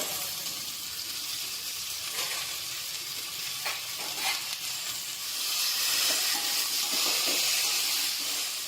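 Ground ginger paste and tomato frying with potato and onion in a pan give a constant, moderately loud hiss and sizzle, steamy and bubbling, with occasional soft stirring clatter and no voices.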